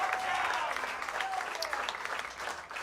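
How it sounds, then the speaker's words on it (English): Audience applause at a live comedy-style tour show in Arizona, a steady wash of clapping heard somewhat distant and fairly quiet throughout. "Give yourself a round of applause."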